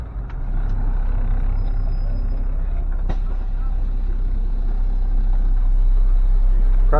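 A bus ride in Costa Rica produces a loud, continuous low engine rumble with road noise throughout, with one sharp knock or rattle partway through.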